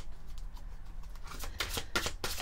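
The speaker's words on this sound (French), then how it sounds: "on va prendre quelques cartes" Oracle cards are shuffled and drawn at close range, making a soft rustle that builds into several crisp riffling bursts toward the end, with no speech.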